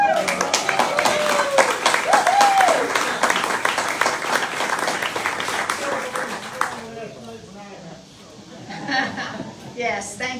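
A church congregation at Sunday worship bursts into a round of applause, dense clapping for about seven seconds that fades into scattered claps and murmuring voices.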